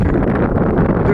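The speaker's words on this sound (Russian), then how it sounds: "Ветер. Вот она, стихия-то." Strong gusts batter a seaside embankment in Anapa in rainy late autumn, a steady loud roaring buffet of wind across the microphone with no pause.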